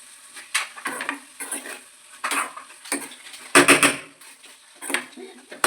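A spoon stirring a beans stir-fry with grated coconut in a pan, with repeated scraping and clattering strokes in an irregular rhythm, close and fairly loud, with a light sizzle underneath.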